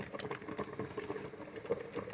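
Coconut cream bubbles in a pot over cooked taro for a simple Polynesian island dish, a soft, steady simmering patter with small pops close by and no voices.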